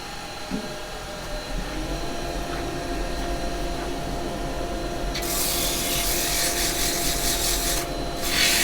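A turned end-grain pine plant pot gets a quick sanding on a woodturning lathe: a steady motor hum carries a soft rubbing rasp that swells into a louder, broad abrasive hiss partway through.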